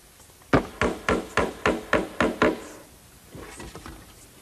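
Seven sharp hammer blows drive a small wooden cleat onto the side of a shingled dovecote, evenly spaced and close, followed by a few softer taps.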